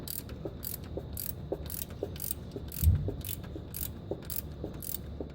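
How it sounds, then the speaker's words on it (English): A ratchet with a deep well socket tightens an 11/16 fitting on a 1984 Chevrolet C10 trans line during an LS swap, giving quiet, regular clicking strokes about twice a second, close and faint, with a soft thump midway. "I'll grab a ratchet and socket. We'll put it on there."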